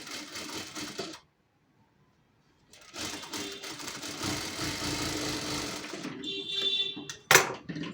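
A sewing machine stitches fabric for a blouse's katori panel, running loud and close in two stretches separated by a silent pause, ending with a sharp clatter.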